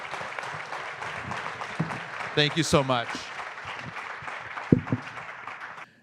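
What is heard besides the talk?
audience applause for the panel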